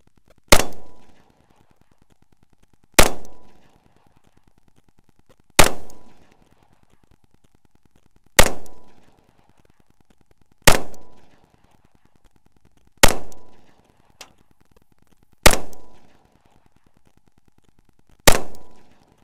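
SCCY CPX-2 pistol fired at a steady slow pace, eight sharp loud shots a couple of seconds apart, each with a short decaying ring, no talking.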